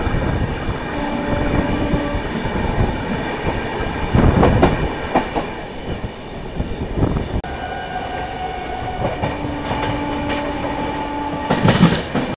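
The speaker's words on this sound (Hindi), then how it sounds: "सुबह सुबह जो है EMU की क्रॉसिंग देख लीजिए भाई साहब" An EMU local train passes on the crossing track near Aligarh on the line toward Ghaziabad, heard from aboard another train: a steady rumble and clatter of railcars with horn-like tonal bands and bursts of wheel screech, continuous throughout.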